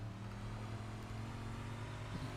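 A race car's engine heard from on board holds a steady, loud drone under throttle for the whole stretch, with no talk over it.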